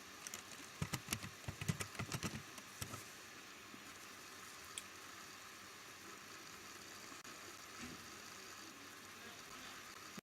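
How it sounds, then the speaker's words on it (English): Quick bursts of key presses on a computer keyboard as a password is typed into a Linux terminal, a faint cluster of clicks early on, then quiet room hum. "Type the password."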